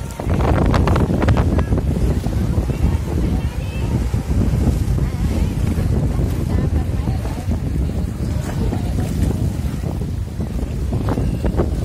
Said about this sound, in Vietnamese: từng đợt sóng bủa trắng xóa trên gành đá, mang theo âm thanh rì rào muôn thuở của đại dương